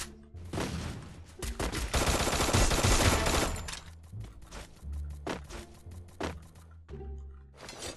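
Rapid bursts of gunfire in the Free Fire video game, a dense sustained volley in the first half giving way to scattered separate shots and short bursts, loud and close with no talk over it.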